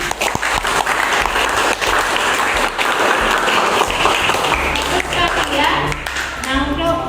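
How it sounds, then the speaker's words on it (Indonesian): Applause from a classroom of students fills the room steadily, a dense wash of many hands clapping, with a few voices calling out over it toward the end. "Tepuk tangan."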